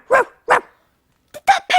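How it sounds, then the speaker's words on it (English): A cartoon pencil case barks like a small dog: two short, bright yaps, a pause, then three more quick barks, close and loud with nothing else around them. "Did that pencil case just bark?"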